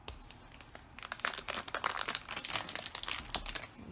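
Crinkly plastic and cardboard packaging being torn and opened on an Apple iPhone 8 box, a close, busy run of rustling, crackling and tearing with no talk.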